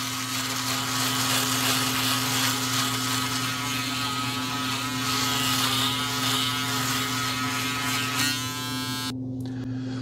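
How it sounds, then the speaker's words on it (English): A Braun Series 3 electric shaver runs steadily with a constant close buzzing hum, fairly loud, then cuts off abruptly near the end, with no talking. "now let's go to the Braun Series 3. Turn it on. Again, just more RPMs."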